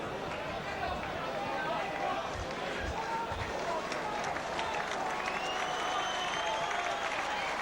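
Sustained crowd applause at a St Helens versus Featherstone rugby league match as substituted player David Cosgrove leaves the field, a steady broad roar of clapping and cheering throughout with a commentator's voice over it.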